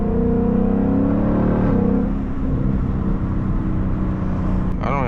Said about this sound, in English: I hope y'all enjoying this exhaust as much as I am right now